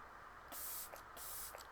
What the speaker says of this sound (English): So I'm just going to spray some of my Flower Beauty Seal the Deal.